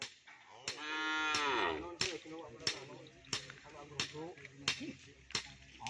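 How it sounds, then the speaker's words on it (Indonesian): A small cow moos in a long, drawn-out call close by, followed by a few shorter lowing sounds between sharp knocking clicks, with other farm animals nearby. "Ini ada sapi yang kecil, guys,"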